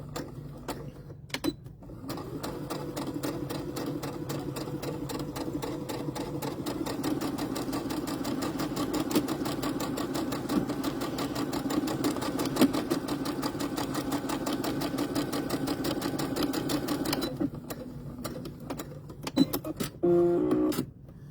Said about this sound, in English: So I'm just going to sew this on exactly the same way we just did.